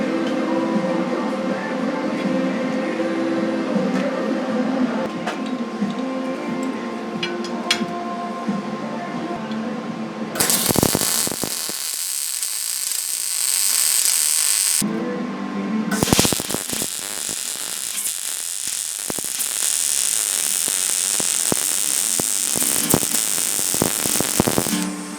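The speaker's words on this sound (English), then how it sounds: "This is just typical MIG welding." MIG welding on clean steel with a Vulcan 220 multi-process welder: a steady buzzing crackle of arc, broken by a short pause then resuming, loud and close.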